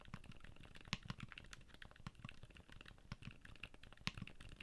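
Typing on a mechanical keyboard fitted with silent Litchik switches, a quick run of soft, muted clicks and taps with a dampened bottom-out, fairly quiet and close with no talk.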